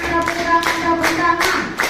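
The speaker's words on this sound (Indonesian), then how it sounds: "Tepuk tangan." Several sharp hand claps in a loose, steady rhythm over a sustained tonal background, fairly close and moderately loud.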